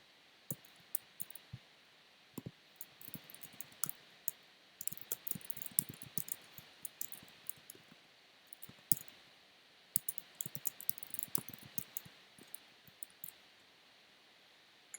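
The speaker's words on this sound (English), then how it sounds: "I can hear you furiously typing." Rapid, irregular clicking of a computer keyboard being typed on furiously, quiet and close, coming in bursts of quick keystrokes separated by short pauses, with no voices.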